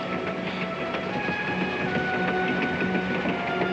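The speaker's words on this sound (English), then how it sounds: "You hear what the train wheels are saying, Ben?" Train wheels rolling over rails, a steady rumbling clatter with a faint repetitive clickety rhythm, heard continuously from inside a passenger car.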